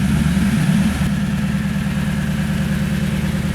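A 2010 Toyota Tundra 5.7 V8 with a Flowmaster FlowFX exhaust idles with a steady, deep low rumble close by, swelling briefly early on before settling into an even burble.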